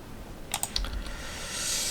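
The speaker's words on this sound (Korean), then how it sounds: "이와 같이 타이핑을 하시면 되겠고요." A few quick keystrokes clatter on a computer keyboard, a short burst of close clicks followed by quiet room hiss.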